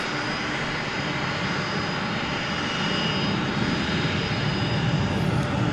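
Airplane engine at DFW Airport rumbles and roars steadily, a broad continuous drone that swells slightly louder toward the end.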